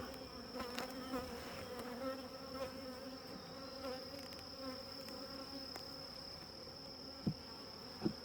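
Honeybees fan and buzz at a hive, a steady close insect hum with a high whine running through it and a couple of faint knocks near the end.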